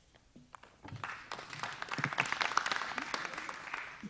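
Audience members at a town planning board meeting break into applause, starting with a few isolated claps before building to a sustained, moderately loud round from a room full of people, with a murmur of voices faintly underneath.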